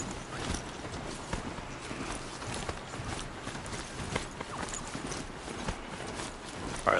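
In Horizon Zero Dawn, a ridden Broadhead machine mount runs with a steady, rapid clopping footfall rhythm, dense and continuous at moderate loudness, with faint mechanical rattles.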